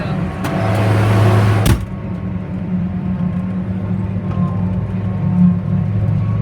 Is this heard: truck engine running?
yes